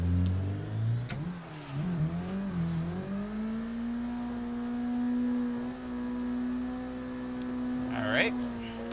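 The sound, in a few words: car engine revving on rev limiter in Assetto Corsa video game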